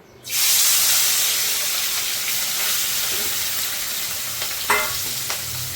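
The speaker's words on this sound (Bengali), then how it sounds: "এবার তেলটা গরম হয়ে গেছে, মাছটাকে দিয়ে দেবো" Morola fish sliding into hot oil sets off a sudden loud, steady sizzle that holds close and strong throughout, with a couple of brief sputters or pan knocks near the end.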